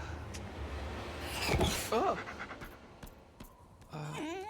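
A dog pants in the video game The Hundred Line, quick breathy puffs mixed with a brief whine, heard close over steady background noise, with a voice speaking briefly near the end.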